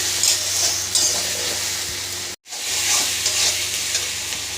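Jackfruit (echor) sizzling as it fries with spices in a pan, a steady loud hiss broken by stirring scrapes, with one brief full dropout partway through.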